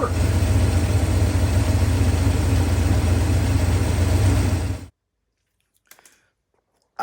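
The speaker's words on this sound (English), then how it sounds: "Listen to the motor." An old pickup truck motor idles loudly and steadily close by, then cuts off abruptly, leaving near silence broken by a couple of faint brief knocks.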